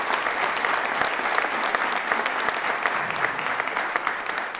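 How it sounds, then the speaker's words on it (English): Steady, dense applause from a large audience at a state address, honoring a school principal; loud and continuous throughout with no break. "if we give a round of applause to our incredible preacher"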